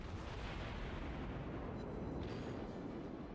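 Naval gunfire from a St. Louis cruiser in the World of Warships video game, a continuous deep rumbling roar of broad booming noise that stays steady and loud for the whole few seconds.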